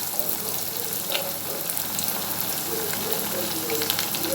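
Fish pieces frying in oil over a low flame for a crunchy fish fry, a continuous close crackling sizzle with scattered pops, steady and fairly loud with no voices.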